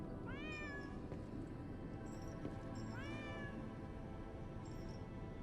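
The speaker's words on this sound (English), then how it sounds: "Is that a kitty cat?" A cat meows in the Lies of P video game, two clear drawn-out meows with softer chirps in between over a quiet ambient hum.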